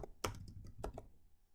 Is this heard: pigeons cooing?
no